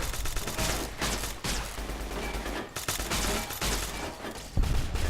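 Heavy, repeated gunfire erupts in the Fallout New Vegas Old World Blues game, dense bursts of shots that run almost nonstop across several seconds with short gaps between volleys.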